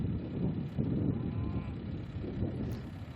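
Cows low on a beef farm with about 110 suckler cows during a drought, their deep calls overlapping steadily over a breezy outdoor rumble for the whole stretch.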